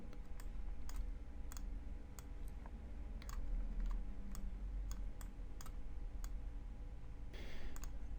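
Crisp computer mouse clicks, about a dozen spaced irregularly over a quiet room hum, close and distinct, ending with a short rustle.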